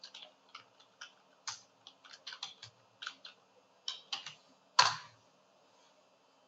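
Someone types a Google search for a business card size on a computer keyboard, with quick irregular clusters of crisp close key clicks ending in one louder keystroke, likely the enter key, then a brief pause and no speech.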